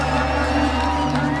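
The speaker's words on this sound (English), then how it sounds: "A vast crowd gathered to watch the game on giant screens in the city centre." A vast crowd watching a football match on giant screens in a German city centre gives off a dense, continuous roar of cheering and shouting.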